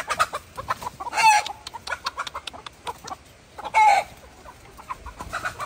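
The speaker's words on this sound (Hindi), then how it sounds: "ये कोई गुस्से वाला मुर्गा है, मार रहा है सारों को।" Hens cluck and squawk in agitated bursts as an angry rooster chases and attacks them, with two loud, harsh squawks standing out among steady nearby farmyard clucking in a village in Pallandri, Azad Kashmir.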